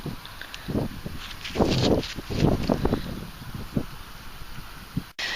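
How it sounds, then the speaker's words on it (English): Gusty wind buffets the microphone outdoors on a muddy field on a rainy day, rising and falling in rough bursts with a rustling texture. "it's got really windy now"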